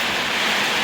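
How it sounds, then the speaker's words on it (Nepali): Heavy rain pours down outdoors as a loud, steady, broadband rushing wash, close and continuous with no voices over it. "ठुलो पानी आएको छ साँच्चै हो"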